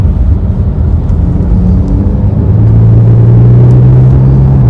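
A 2015 Porsche 911 accelerating hard through the upper gears, its engine rumble loud and close, with a rising tone that settles into a strong steady drone in the second half.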